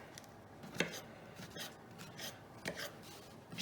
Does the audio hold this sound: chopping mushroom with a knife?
yes